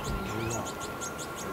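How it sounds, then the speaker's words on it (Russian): Birds on a pond where ducks and geese gather, giving short repeated chirping calls in a quick series, faint against steady background noise. "Одни утки. Утки и гуси."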